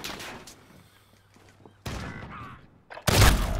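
Gunfire in a shooter video game: a short muffled shot early on, then heavier bursts of fire toward the end, the last one loud and close.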